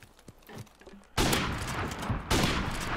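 Sniper gunfire in a 1v1 match of a first-person shooter video game: quiet game sounds, then two loud, sharp shots about a second apart, each trailing into a dense, noisy roar.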